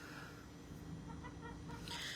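Chickens clucking close by, soft overlapping clucks and short calls in a steady backyard murmur with no talking.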